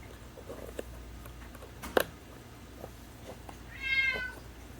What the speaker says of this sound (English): Pardon my meowing cat when you hear him.